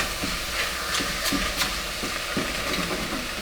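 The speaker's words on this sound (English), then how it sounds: "So pretty much you're just sauteing your ground turkey breast here" Ground turkey breast sautéing in a pan, a steady close sizzle broken by repeated spatula scrapes and taps as the meat is moved around, with no voices.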